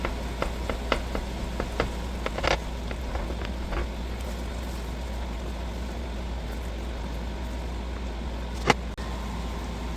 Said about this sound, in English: Now we're going to chop those up, mix it in with the rest of it, still on medium-high heat.